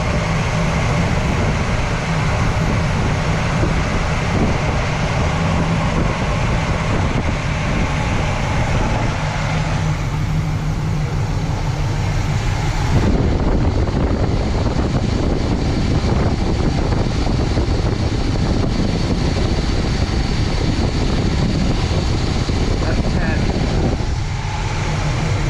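A 1979 Chevrolet El Camino SS V8 idles at about 730 RPM with advanced timing, a loud, steady, continuous engine drone heard up close with little variation.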